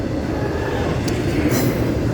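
A Florida East Coast Railway freight train rumbles past steadily, a continuous loud rolling roar with faint metallic wheel squeals, no talking.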